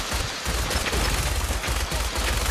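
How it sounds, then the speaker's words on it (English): Heavy gunfire in Fallout 4, a loud, close, rapid fusillade of overlapping shots with brief gaps between bursts, sounding like sustained automatic fire throughout. "Please stop shooting."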